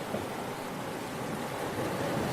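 Arabian Sea waves wash onto the shore in a steady, dense roar, with wind blowing across the microphone.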